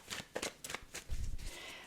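A deck of tarot cards gets shuffled up close. It sounds like several quick papery riffles and slaps in an uneven rhythm, and a few soft low thumps come at the end, with no speech.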